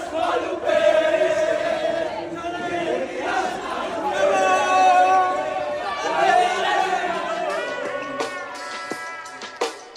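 Filipino fans cheer and chatter at a World Cup watch party, a dense crowd of voices shouting and singing together, loud and sustained with rising and falling swells.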